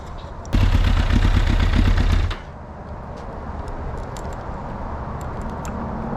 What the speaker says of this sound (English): It has its own unique inline 4 sound going for it, as do all this generation of bike.